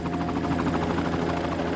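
Small helicopter of the kind that lands on the helipad atop the Bishop Rock lighthouse, its steady rotor drone and whine continuous and fairly loud for a short stretch, with no talking.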